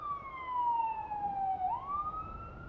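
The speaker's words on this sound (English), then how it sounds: "Oh, ambulance." An ambulance siren wails on a road near Aspen, Colorado, a single smooth tone sliding down and then rising again as it passes, clear and fairly close over low road rumble.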